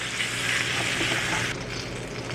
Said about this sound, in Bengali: ডিমগুলো ভেজে নিয়েছি।